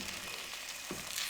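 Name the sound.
spoon stirring semolina roasting in ghee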